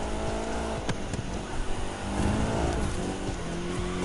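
A race car drifts in The Crew 2 video game with a dense, continuous engine roar and tire noise, loud and steady throughout, with no voices.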